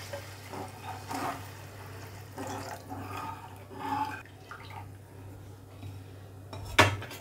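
Water poured into a pan of sev curry with fried masala: soft splashing and light clinks of utensils over a steady low kitchen hum, ending with a sharp metallic clank.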